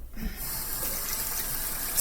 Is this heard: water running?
yes